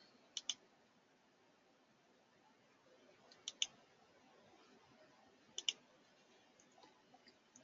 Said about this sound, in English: And we'll click on all these.